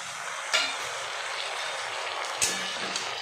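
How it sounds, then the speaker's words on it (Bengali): Potatoes frying with bottle gourd greens in a pan give a steady, moderate sizzle throughout, broken by two brief louder clatters of stirring. "আলু একটু ফ্রাই হলে দিয়ে দেবো লাউ শাকগুলো।"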